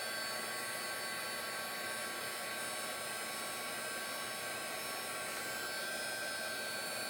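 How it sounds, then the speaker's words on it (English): Heat gun blowing steadily on embossing powder to melt it shiny during a card-making stencil project, a continuous loud whooshing hum with no pauses and no talk. "Just heat it up until the powder melts and gets shiny."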